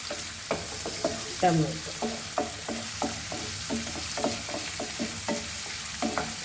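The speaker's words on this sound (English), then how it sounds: "We'll just saute this for a few minutes" Mutton trotters curry base sautéing in a pan, a soft sizzle under repeated rhythmic spoon scrapes and taps, with someone briefly speaking over it.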